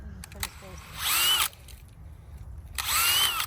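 A power drill running in a garden in two short bursts, each whine rising in pitch and stopping after about half a second. A voice talks quietly around the bursts.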